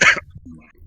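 A single short, harsh cough bursts out at the start, then fades into quiet low background noise.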